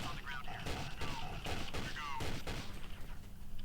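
Video game gunfire, rapid bursts of shots in a busy, rattling stream at moderate level, mixed with game sounds.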